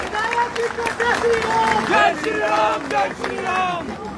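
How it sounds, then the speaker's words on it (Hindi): An audience at a political gathering for a Delhi constituency claps for a BJP legislator, dense continuous applause with crowd voices and talk mixed in throughout. "एक बार जोरदार ये ताली बजती रहे थोड़ी देर तक।"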